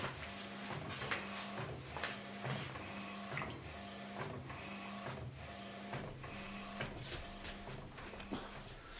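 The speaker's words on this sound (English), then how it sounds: "I'm going to send it directly to the printer" A photo printer prints on luster paper, running steadily with a low mechanical hum and a regular rhythmic whirring as the print head passes back and forth, punctuated by soft clicks.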